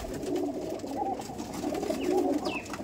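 Giribaz pigeons coo in soft, low, rolling phrases, a few repeated murmuring calls close by with faint background noise.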